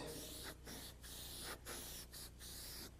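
Spray paint hisses onto a board in a series of close, loud bursts, about six sprays separated by short pauses, with no talking.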